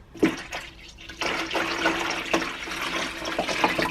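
Water pours and splashes steadily into a container while iced coffee is being made, a close, continuous gushing with a few clinks and handling knocks.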